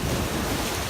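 Sea waves washing onto the shore at Acre (Akko), Israel, a steady broadband surf roar with wind buffeting the microphone, loud and continuous throughout without any voices.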